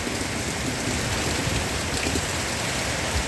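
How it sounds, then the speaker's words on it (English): Heavy rain pours down steadily during a thunderstorm on a street, a dense, continuous hiss of drops hammering surfaces at constant loudness with no voices. "And you can see how hard it's raining."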